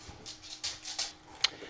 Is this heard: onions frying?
no